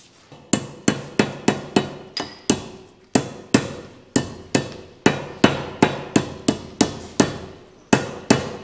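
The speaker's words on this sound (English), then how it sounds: "Just use your hammer." Hammer striking repeatedly while packing a bearing with grease during harvest preparation in Western Australia: about twenty sharp metallic blows at a quick, slightly uneven pace, close and loud, each ringing briefly.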